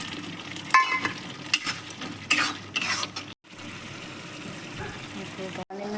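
Spice paste of coriander, turmeric and chilli frying with tomato in a pan, stirred with a utensil that scrapes and clinks against the metal over a steady sizzle, with brief pauses.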